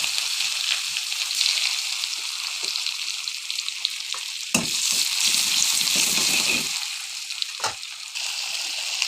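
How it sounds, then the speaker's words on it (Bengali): Chopped onion frying in hot oil with cumin crackles in a loud, steady sizzle close by, broken by a few sharp stirring clatters and a brief burst of louder spattering midway. "এখন দিয়ে দেবো পেঁয়াজ কুচি"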